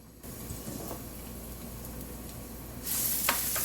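Minced garlic hits hot olive oil in a pan, a soft hiss that suddenly swells into a louder, brighter sizzle with a few crackles toward the end.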